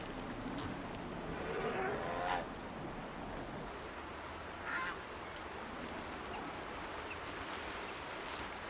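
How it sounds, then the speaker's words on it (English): Geese honk in Horizon Zero Dawn, with a short run of calls near the start and a single call midway, set against steady wind-and-water ambience from the game. "As are those geese."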